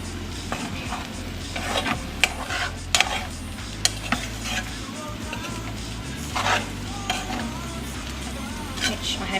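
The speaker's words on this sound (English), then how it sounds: "So gently mix the egg in, gently, so the eggs mix through and that there's egg all through your rice" Egg being stirred through fried rice in a hot pan gives soft scraping and clinking of a utensil against the pan over a continuous sizzle, with occasional sharper taps, close up.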